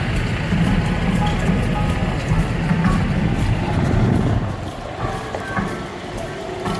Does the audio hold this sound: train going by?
yes